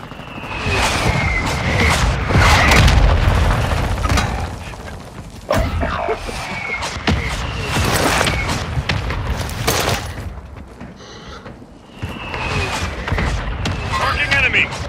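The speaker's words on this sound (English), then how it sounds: "Mortar strike on the way." Mortar strike explosions in a Call of Duty battle, with loud booming blasts and crackling debris rolling through dense gunfire and battlefield noise, as radio-style voices talk over the chaos.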